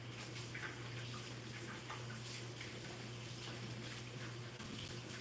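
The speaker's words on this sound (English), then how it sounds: "I'm going to wash my hands." Water runs from a kitchen sink tap while hands are washed, a steady, soft, even rush that continues without a break throughout.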